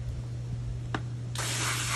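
A garden hose nozzle on its jet setting blasts a hot tub filter cartridge, a broad hissing spray that bursts in loudly after a brief squirt and then holds steady close to the microphone over a low electrical hum.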